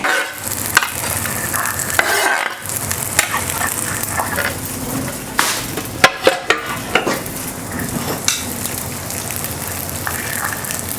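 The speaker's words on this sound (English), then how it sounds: "And I'm using a cast iron pan for this." A stick of butter melting in a cast iron pan crackles and sizzles continuously, broken by sharp scraping and tapping clicks from stirring, with no talking.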